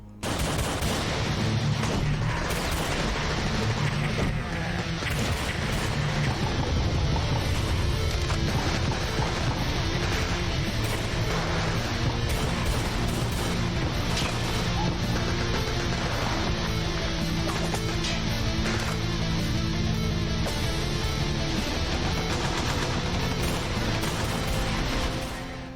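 Relentless pistol and machine-gun fire from Brutal Doom 64 as a squad of Marines battles Mancubi, Arachnotrons, Imps and Zombie Soldiers. It is a loud, unbroken barrage of overlapping shots and crashes with game music underneath.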